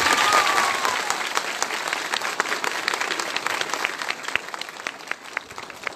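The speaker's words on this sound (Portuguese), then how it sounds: "Gente, vamos dar uma salva de palmas para esses meninos." An audience applauds an event honoring a group of boys with a bishop of Crato, a steady dense wash of many hands clapping that starts loud and slowly thins out, with no talking.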